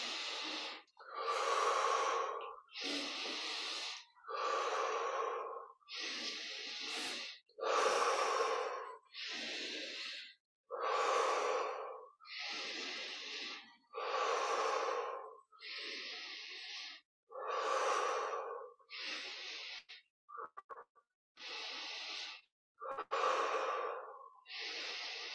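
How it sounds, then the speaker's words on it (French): Deep, slow breaths during a guided meditation, about a dozen long inhale-exhale cycles in steady rhythm, close and fairly loud with brief pauses between, no talking. "on prend 10 respirations profondes en ouvrant la poitrine le plus possible"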